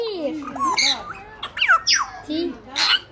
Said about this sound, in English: Look at those parrots.